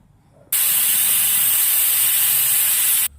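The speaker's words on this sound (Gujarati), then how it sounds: "સીટી પડી ગઈ છે પાંચ મિનિટ કુકરને" A loud, sustained hissing whistle of steam from a pressure cooker cooking undhiyu starts abruptly, holds steady for a few seconds, then cuts off.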